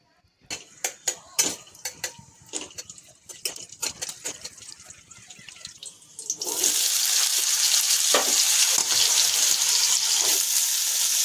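Diced potatoes tipped into hot oil in a pan for Bengali alu posto, starting with scattered clinks and clatters, then breaking into a loud, continuous hissing sizzle for the final several seconds.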